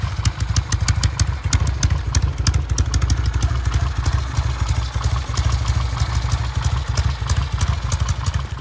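Close, loud engine of a 1969 Norton Commando 750 Fastback motorcycle running at a steady idle, a rapid regular thumping beat with metallic clatter throughout, no voices.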